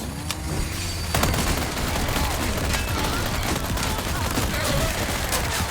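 Dense gunfire in Resident Evil 4 Remake, rapid overlapping shots and booms forming a loud continuous barrage with a muffled voice now and then underneath.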